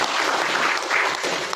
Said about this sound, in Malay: Tepukan sekali lagi.